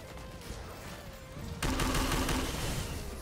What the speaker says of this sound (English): Just kill everything with fucking fireworks